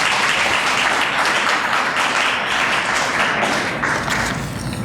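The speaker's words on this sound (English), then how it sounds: "Can we just applaud yourselves? Give yourself a hand." A large morning gathering at the FaithNet 2013 event applauds itself, a loud, dense, continuous roar of many hands clapping that tapers slightly near the end.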